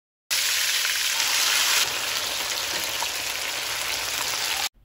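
Beef hits hot oil in a pan for a Filipino stir-fried noodle dish, a loud, sudden burst of dense sizzling that holds steady for about four seconds, then cuts off.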